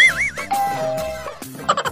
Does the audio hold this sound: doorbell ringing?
yes